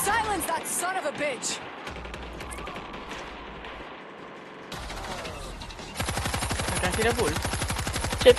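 Video game gunfire in a zombie fight at the Empire State Building, with scattered shots early on and a rapid, loud, steady burst of automatic fire near the end, mixed with game effects and a voice talking.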